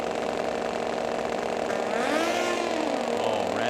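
Suzuki and Kawasaki drag racing motorcycles launch at a drag strip, their engines rising in a sweeping rev as they pull away, heard at moderate distance over a steady crowd-and-track background.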